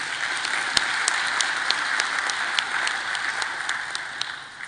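Crowd applause at an RHDP political council meeting addressed by the president, a continuous bed of many hands clapping with a few sharper individual claps standing out, sustained and even before tapering slightly at the end.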